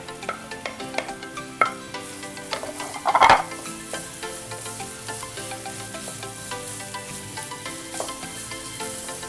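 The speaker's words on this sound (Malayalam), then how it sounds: "സവാള കുറച്ച് ബ്രൗൺ കളർ ആവണം, അതുവരെ കുറച്ച് വഴറ്റുക" Three sliced onions with green chillies sautéing in hot oil for a Kerala-style egg masala, a steady sizzle with scattered stirring scrapes and one louder clatter of the spoon against the pan partway through; no voices.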